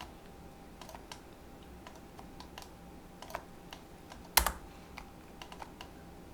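Keyboard shortcuts tapped on a computer keyboard during graphics editing give a series of light, close clicks spread irregularly across several seconds, with one sharper, louder key strike near the end.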